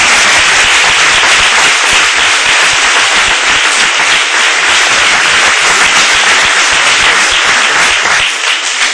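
A church congregation claps loudly and continuously during a Brazilian Portuguese sermon, a dense, close wash of applause that holds at full strength throughout without speech.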